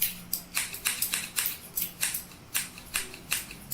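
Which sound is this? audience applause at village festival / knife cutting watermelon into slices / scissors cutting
scissors cutting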